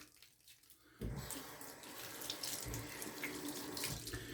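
Tap water runs steadily into a sink during a straight razor shave, starting abruptly after a quiet moment and continuing as a close, even splashing rush with no talk.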